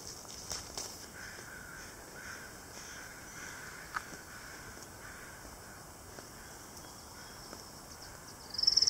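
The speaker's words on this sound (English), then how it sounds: "It's probably a murder of crows." Crows cawing at a distance in a forested state park on Whidbey Island, a few faint calls over quiet outdoor ambience with light footsteps.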